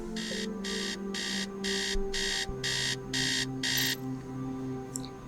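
An alarm clock in the video game Tales of the Neon Sea beeps in eight even electronic bursts over a steady low hum, then stops.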